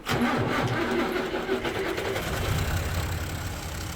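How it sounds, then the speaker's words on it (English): A tractor engine in Farming Simulator 25 cranks and catches, then runs at a steady mid-pitched rumble close up, loud and continuous for about four seconds with no talking. "I think this is actually my faster tractor."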